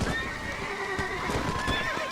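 In Red Dead Redemption, a horse whinnies loudly while its hooves pound in a fast gallop, set against rushing wind and stormy weather noise, continuous and close.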